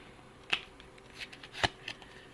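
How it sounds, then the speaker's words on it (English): Tea leaf cards are shuffled in two brief, crisp riffling bursts with quiet pauses between them, heard close and alone. "we can clarify with the tea leaf cards that I am shuffling"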